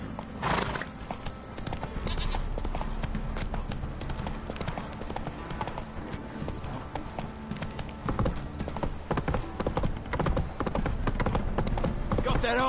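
Roach, the horse in the video game The Witcher 3, clip-clops at a steady trot, with hoofbeats close and continuous, a snort or whinny, and a voice talking over it.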